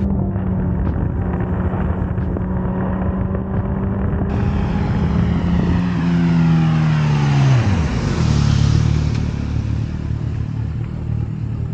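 A Suzuki GSX-S1000GT motorcycle rides along, its engine droning steadily, then slows with a falling engine note as it arrives and settles to a low idle, close and fairly loud, with no talking.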